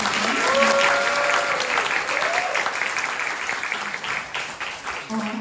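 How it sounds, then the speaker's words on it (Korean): Young audience at a youth camp lecture clapping, a sustained burst of dense applause throughout, with a few voices and cheers mixed in near the start. "박수 한 번만 주실 수 있을까요?"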